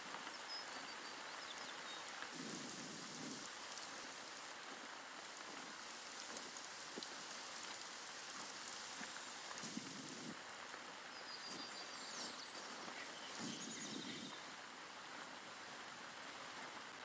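Steady, soft video game rainfall from theHunter: River Crossings hisses continuously, with occasional low rumbling patches beneath the even patter.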